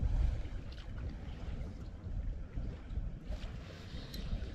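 Cold winter wind blowing over the water from a fishing boat, a constant low buffeting rumble with gusty surges and faint lapping water.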